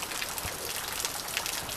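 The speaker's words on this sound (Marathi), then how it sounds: "पाऊस आलाय" Steady evening rain falling outdoors at a village home, a dense, even patter of drops with faint louder splashes close by, continuous and without voices.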